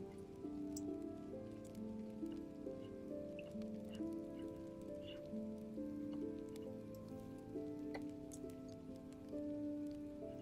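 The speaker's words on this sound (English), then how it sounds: "Oh, the rain? The rain?" Steady rain patters softly on a surface, with scattered droplet ticks and a low tonal hum underneath, faint and continuous with no voices.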